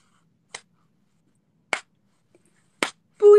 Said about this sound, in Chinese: 先拍手再出"不要"两个字